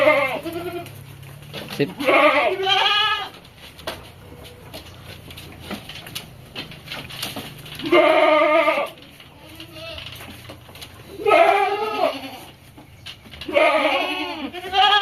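Five female goats bleat in a pen, loud repeated bleats in separate bursts with quieter gaps, close by, with a brief spoken word.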